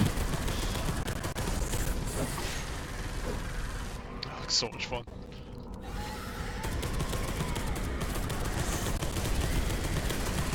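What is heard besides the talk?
assault cannon firing in Space Hulk Deathwing video game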